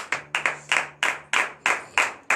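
A church congregation claps in praise in a steady rhythmic beat of about three claps per second, sharp and loud, with no talk over it.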